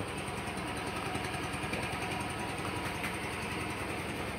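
A Yamaha Grand Filano scooter engine runs with the throttle held open and the exhaust outlet blocked, a steady close buzzing drone with a dense low rumble and no speech.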